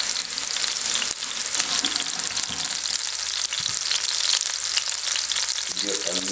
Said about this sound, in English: we are going to take our pork loin and set him in the pot and do roughly about a minute or two per side